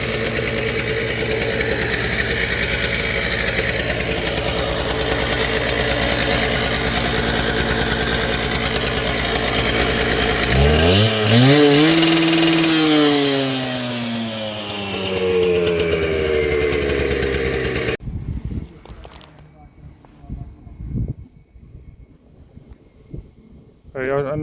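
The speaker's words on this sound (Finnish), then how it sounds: "sahaa tuohon ja alkaa sahaamaan tuota betonia" A petrol concrete saw runs loud and close for a long stretch as it cuts concrete by a manhole on a site with a Liebherr 918 compact excavator. The engine pitch sweeps up and down before it cuts out, leaving quieter knocks.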